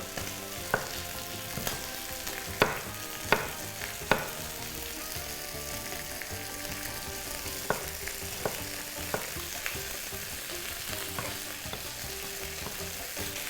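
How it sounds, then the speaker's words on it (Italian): Chicken pieces sizzle and crackle steadily while browning in a hot pan, with a few sharp clinks of a utensil scraping and stirring; no voices. "Ora il pollo lo facciamo rosolare molto bene"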